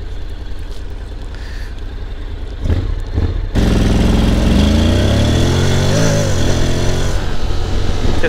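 A Honda X-ADV 2024 scooter engine idles with a low rumble, then revs up strongly as the rear wheel spins at start, a loud, rising drone that holds close and steady.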